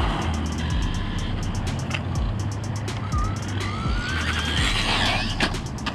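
A Traxxas RC truck's electric motor on throttle, giving a high, rising whine over a busy, noisy outdoor background in brief spurts.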